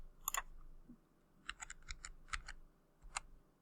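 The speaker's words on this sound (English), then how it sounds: "I can backspace a little bit." A computer keyboard clicks under a few scattered keypresses, including backspace strokes: quiet, close, crisp taps in small irregular clusters with short pauses between them.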